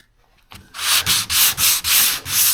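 Body putty on a 1976 BMW 2002 being sanded by hand with roughly 400-grit paper, close and loud: five steady back-and-forth strokes with brief gaps, after a half-second of near silence.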